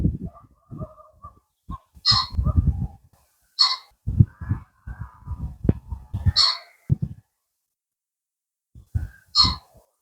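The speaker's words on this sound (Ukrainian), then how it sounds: "там ззаді мене кричить фазанчик мабуть" Repeated harsh, raspy calls of a pheasant ring out in short bursts against a quiet outdoor background, with low rustling and soft thumps between them.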